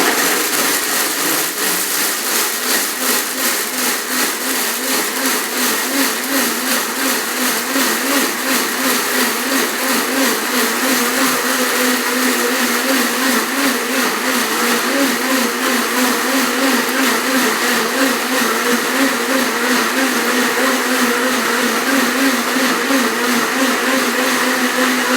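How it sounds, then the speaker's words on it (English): A kitchen blender grinds whole wheat grains into flour with a steady, loud, high-pitched whirring roar that holds unbroken for the whole stretch, close by and without voices. "Sorry, you probably should turn on your blender first."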